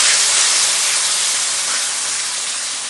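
Steady sizzling hiss of a spice paste of ground poppy seed, cashew and tomato frying in a pan for a Bengali aloo paneer posto, loud and continuous without pause.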